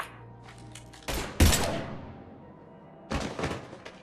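Gunfire in the Mass Effect 3 video game: a few heavy thudding shots, the loudest burst near the middle and another later, with a low hum between them and no talking.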